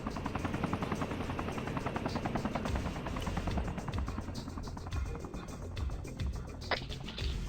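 A medical helicopter in ARMA flies close by, its rotor chopping in a fast, even pulse under a low engine roar, loud and steady throughout with no voices.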